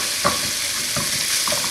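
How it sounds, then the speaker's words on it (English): Chorizo sizzles steadily in a hot pan while a utensil chops and scrapes it apart, giving three or four distinct tapping strokes over the continuous close frying hiss. "Keep chopping it up. And as it gets warmer, it will be easier to do this."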